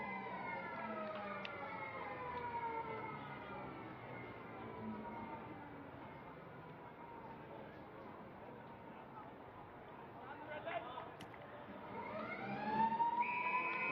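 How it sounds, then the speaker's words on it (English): A siren wails up near the end, signalling the start of a WAFL Colts football match between Perth and West Perth, over a faint background of crowd chatter and murmuring voices. "announce the ball and wait for the siren"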